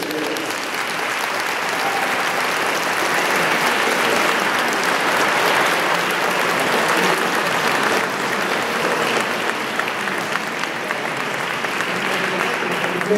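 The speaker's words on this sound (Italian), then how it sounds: "questo applauso" Sustained audience applause at a high school choir concert, a thick, even roar of many hands clapping that stays loud and steady throughout, with no talking over it.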